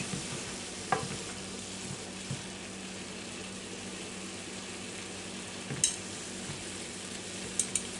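Hamburger meat browning in a pan for chili, a steady, fairly quiet frying sizzle with occasional stirring knocks, and no other sound.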